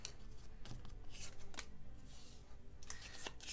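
Quiet riffling and flicking of playing cards being shuffled by hand, a soft papery rustle nearby.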